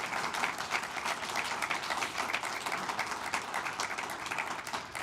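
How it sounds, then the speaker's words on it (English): A large audience at a press conference claps steadily and loudly throughout, a dense, even wash of applause with no break. "This is a cue for your applause."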